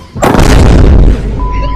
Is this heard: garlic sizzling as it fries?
no